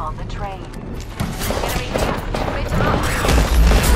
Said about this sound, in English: I have 3 people shooting at me!